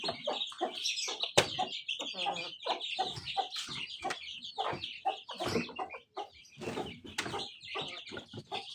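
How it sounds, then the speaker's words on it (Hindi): A hen and rooster cluck and squawk close by in a village, a busy, irregular stream of short calls, with a few sharper cries standing out. "आज मुर्गी थोड़ी बहुत कंफर्टेबल हो गई है मुर्गे के साथ"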